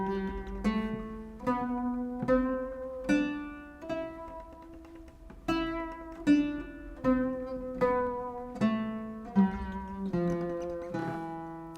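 A plucked string instrument plays the Kurdi makam scale, rising and then falling, one clear note at a time in an even, unhurried rhythm. It sounds close and moderately soft, with no talk.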